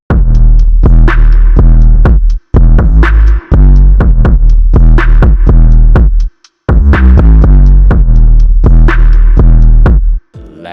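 Deep 808 bass throbbing through a hip-hop beat, loud and booming in repeated sustained hits with short gaps between phrases.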